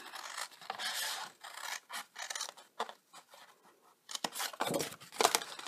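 Scissors snip and scrape through stiff card in a run of short, close cuts, quiet and uneven in rhythm, with no voices.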